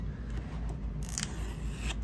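Pull tabs torn off a Samsung Galaxy S24 Ultra box, a short papery ripping scrape about halfway through, close and crisp over a steady fan hum.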